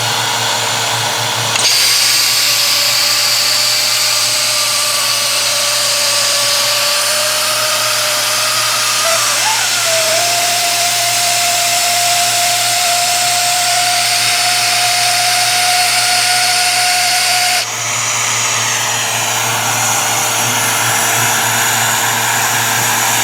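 A Miller 105 fabric welder sealer runs loud and steady with a high whining motor tone while sealing fabric, its pitch stepping up partway through before the machine cuts off abruptly near the end.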